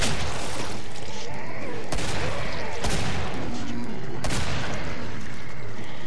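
Dense, continuous gunfire from the Killing Floor video game fills the whole stretch with sharp overlapping shots, heavier bursts cutting through, loud and close with talk faintly underneath.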